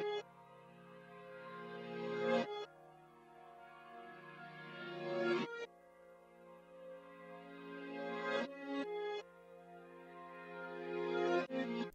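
Reversed, higher-pitched keys sample with send effects, its lows and highs filtered out; each swelling phrase builds to a sudden cutoff, repeating about every three seconds across four passes.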